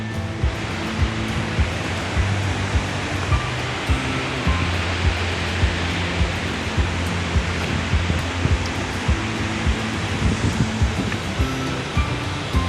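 Kedabuhan waterfall in Subulussalam gives off a loud, continuous broadband roar of rushing water, steady throughout and heard close by with no talk.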